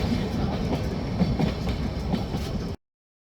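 The Nilgiri Mountain toy train runs between Ooty and Coonoor with a steady, close rumble and rhythmic clickety-clack of the carriages for almost three seconds before the sound cuts off abruptly.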